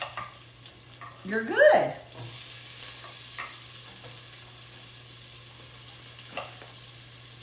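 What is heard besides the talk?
corn and pepper cooking in a pot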